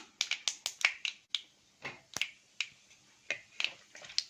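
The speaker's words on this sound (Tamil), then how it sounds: "கடுகு நல்லா பொரிய ஆரம்பிச்சிருச்சு" Mustard seeds splutter in hot oil while tempering for a cluster beans masala, sharp, irregular pops, some in quick bursts and others spaced apart, crisp and close against near silence.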